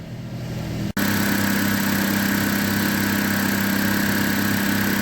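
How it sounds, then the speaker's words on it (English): A Dodge Caliber idles steadily as both cooling fans switch on and run at low speed, adding a constant whooshing hum over the engine after a brief dropout near the start; no one talks. "I'll flick the air conditioning on, and the fans, both of them are running."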